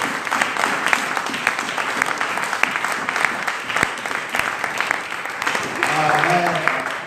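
A church congregation applauding, sustained dense clapping from many hands filling the room, mixed with voices and cheers, swelling slightly toward the end.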